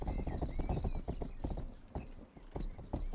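Rapid, steady clip-clop of horse hooves trotting in a video game, close and fairly loud, with a brief whinny-like tone mixed in; no voices.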